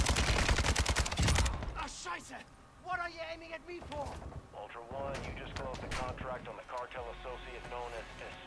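Automatic gunfire in Call of Duty DMZ, a loud burst of rapid shots at the start, then players talking over quieter background combat.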